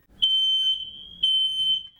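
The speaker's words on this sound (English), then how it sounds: "set off the smoke detectors" Household smoke detectors going off, a loud piercing high-pitched beep sounding in two long pulses, each lasting close to a second, with a faint low rumble beneath.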